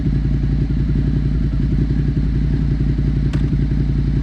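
A motorcycle rocked back and forth at the clutch's biting point without throttle, its engine idling in a steady low throb, with a close clatter and a brief knock near the end.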